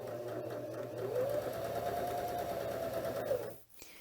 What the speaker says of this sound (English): So now it's just going to stitch just like the A stitch